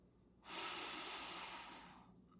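One deep, slow inhale through the nose during box breathing, a soft airy rush close to the microphone that swells quickly, holds for about a second and a half, then tapers off in a quiet room.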